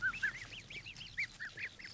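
Geese in a grassy field with their trainer give a rapid run of nasal honks, roughly a dozen short calls in quick irregular succession, close and fairly loud with no voices.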